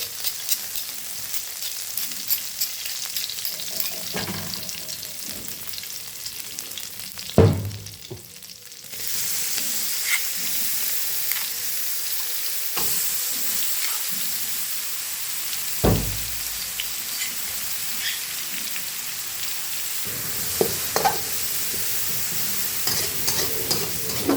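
Spice paste stir-fried in pork lard, a steady close sizzle and crackle running throughout with scraping stir strokes and a few sharp clanks of a utensil against the pan.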